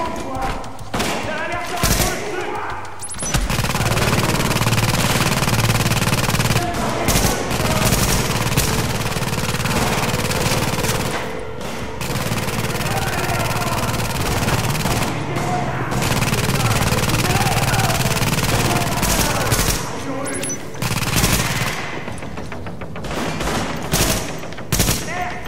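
Sustained automatic turret fire in Tom Clancy's The Division, loud continuous rattling bursts broken by brief gaps, with other game gunfire and talk around it.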